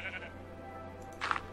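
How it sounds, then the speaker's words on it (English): Two sheep bleats in the Minecraft SkyGrind skyblock game, a short soft one at the start and a louder, nearer one toward the end, over a steady low game hum. "I'm gonna try to get these sheep in here actually"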